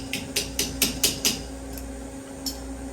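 Six or seven sharp metallic taps with pliers on a machined Jeep JK front steering knuckle, evenly spaced at first, then a single later tap, close and crisp over a faint steady machine-shop hum.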